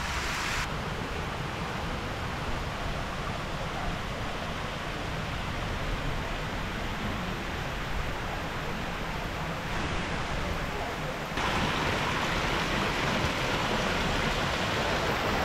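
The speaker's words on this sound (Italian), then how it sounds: "Adesso sì che sta piovendo per bene" Torrential rain in Rome pours down in a thick, unbroken roar of noise, close and loud, with a sudden jump in intensity near the end.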